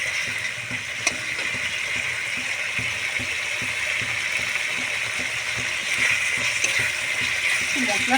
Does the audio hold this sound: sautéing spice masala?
yes